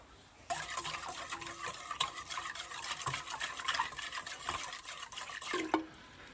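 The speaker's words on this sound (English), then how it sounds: "I'm just going to transfer it into my jug." Spiced cranberry ginger drink pours into a jug, a steady liquid splashing and trickling stream that starts abruptly, runs for several seconds with small glugs and ends with a final splash.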